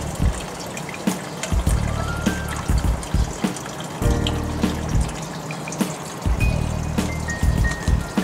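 Water from a fish tank, lifted by a submersible pump, flows steadily through NFT pipes in a small aquaponics setup, a continuous close trickle and splash with irregular pours and gurgles.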